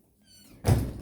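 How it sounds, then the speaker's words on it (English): A room door is pushed shut with a soft creak and a dull, close thud, heard alone in a quiet indoor space. "Also close the door."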